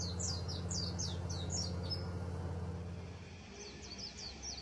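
Pleci white-eye song in a forest: a few quick, bright chirping phrases repeating in a cluster, then pausing and returning softer near the end, over a steady low background hum.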